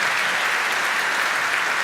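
Steady, dense applause fills the hall as a chamber of commerce audience welcomes its new president at a leadership handover, an even continuous roar of clapping with no pauses.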